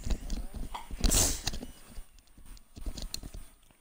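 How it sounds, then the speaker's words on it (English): A person sneezes once, a short sharp burst close to the microphone, amid rhythmic clip-clop-like noises during a Forza Horizon 4 racing game session. "I sneezed."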